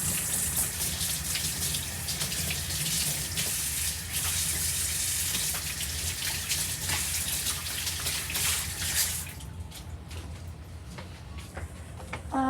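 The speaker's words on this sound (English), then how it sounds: "I have to wash this paste off of my hands." Water running steadily from a tap while paste is washed off hands, a loud continuous gush that stops abruptly, leaving a quieter room with a few small clicks and drips.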